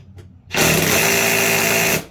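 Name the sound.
impact gun with 1/2 inch socket on mower deck spindle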